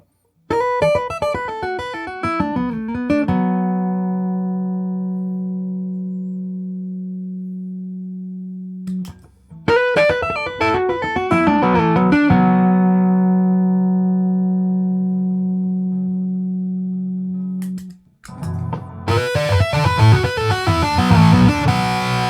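A Stick instrument with an ACTV-2 pickup played through a distorted amp: a few chords ring out and sustain for seconds, ending in a denser, gritty burst of notes. No voices.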